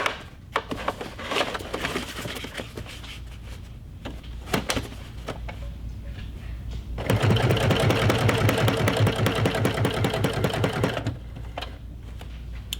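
Sewing machine stitching a kraft-tex tote bag: quiet handling and clicks first, then a loud burst of fast, even stitching for about four seconds before slowing and stopping, close and without talk.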